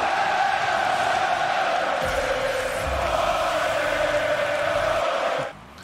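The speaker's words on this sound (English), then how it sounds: "the crowd is rocking" A video game crowd roars after a goal in a playoff match, a loud sustained cheer that swells and holds for several seconds before cutting off abruptly near the end.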